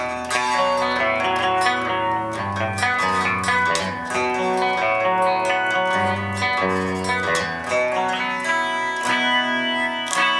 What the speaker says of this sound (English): we can even move over to the flanger setting